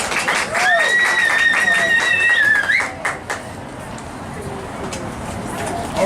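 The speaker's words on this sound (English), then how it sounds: "Let me hear that round of applause." Audience at the Lynwood Union Gallery's 2018 anniversary clapping under a voice speaking over a microphone, with a sustained whistle-like tone at first, then the clapping continues more softly after the voice stops.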